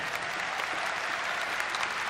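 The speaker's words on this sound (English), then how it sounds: "Round of applause for him." Audience clapping at a Reform UK political rally for a local election campaign launch, a dense steady burst of applause from a crowd, loud and continuous.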